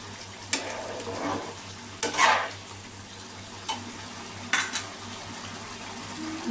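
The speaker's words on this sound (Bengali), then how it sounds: "একটু ঘি দিয়ে দিলাম দিয়ে নেড়ে চেড়ে আমি গ্যাস অফ করে দেবো" Spoon stirring through a chhana bora curry after garam masala and ghee go in, several distinct metallic scrapes and clinks against the pot over a gentle sizzle, with a steady low hum underneath.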